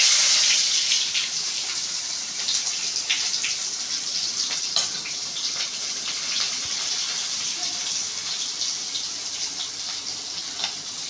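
Chopped onions fry in oil with mustard seeds and urad dal, a bright, steady hiss of sizzling that starts louder and settles slightly, with occasional small pops and crackles close by.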